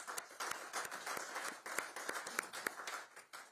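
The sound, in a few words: round of applause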